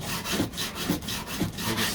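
A hard sanding block rubbed by hand across body filler on the passenger door of a 1969 C3 Corvette, steady rasping strokes repeating in a back-and-forth rhythm about every half second, close and moderately loud with no talk.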